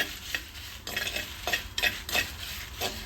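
Dried chillies and coriander seeds dry roasting in a pan while a spoon stirs them, producing repeated scraping strokes and a light crackle, close up, with no one talking.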